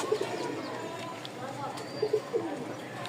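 Lahori pigeons, a pair of toy Lahori birds, give soft low cooing calls in short bursts near the start and again toward the end, over a steady room background, with speech present.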